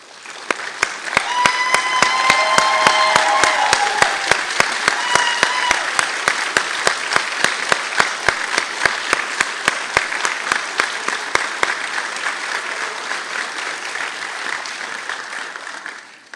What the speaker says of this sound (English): Colleagues, please stand up for a round of applause.